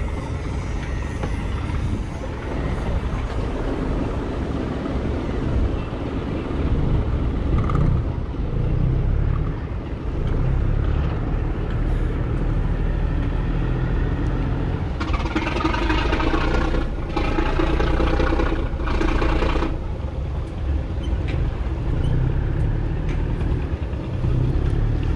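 Vietnamese trawler boats start and run their engines, a loud continuous low diesel rumble steady throughout, with a harsher broadband roar swelling in the middle stretch before settling back to a steady drone.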